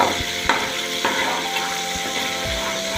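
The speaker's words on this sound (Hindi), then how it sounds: "अब इसके अंदर हम 4 से 5 हरी मिर्चों का पेस्ट डाल लेंगे और इसको फ्राई करेंगे।" Green chili paste fries in a spoonful of oil for palak chicken, a steady close sizzle punctuated by a few light knocks and stirring scrapes, with no talking.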